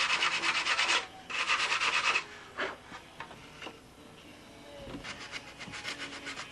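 A small piece of plywood rubs back and forth against the nose ring corner of a model aircraft fuselage, producing rapid, scratchy sanding strokes in short bursts, close up, then a quieter stretch of lighter scraping and handling.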